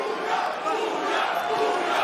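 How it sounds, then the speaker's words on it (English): A partisan crowd at a Karate Combat event roars and shouts in a dense, sustained wall of cheering that fills the arena, loud and steady throughout. "the crowd getting started already. Very partisan crowd this evening."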